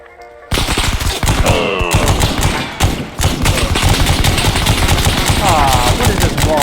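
Gunfire rips through walls in the military shooter ArmA 3, with loud, close, rapid machine-gun bursts and heavy thuds hammering almost without pause after a brief quiet start.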